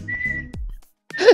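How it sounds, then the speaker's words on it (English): A referee's whistle from a FIFA career-mode football video game sounds in two sharp, loud blasts separated by a brief gap, with a short low thud between them. "Oh, what is that whistle?"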